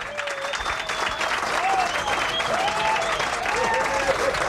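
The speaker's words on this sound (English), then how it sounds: "you're giving these three gentlemen a warm round of applause" Audience at a motor-racing VIP hospitality area gives a steady, warm round of applause for the race winners, dense clapping sustained throughout with a voice talking over it.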